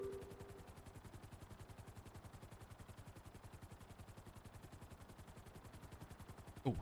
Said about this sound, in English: Oh, I think they're shooting at me.